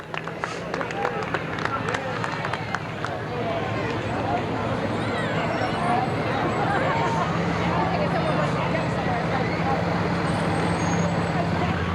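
Green-painted fire trucks of the Goodwill Fire Company from Bridgeport, PA roll past in a Saint Patrick's Day parade in Norristown, a steady engine rumble amid crowd noise, with an announcer talking throughout.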